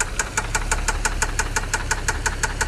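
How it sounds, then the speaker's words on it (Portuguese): Car engine knocking (pinging) under load: a loud, evenly spaced metallic ticking repeats about five times per second over a steady low engine drone, close and without any talk. "Motor batendo pino,"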